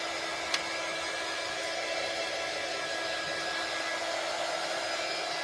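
A hair dryer blows on freshly painted MDF sign pieces, giving a steady, close, continuous whirring rush with a single small click near the start and no voices.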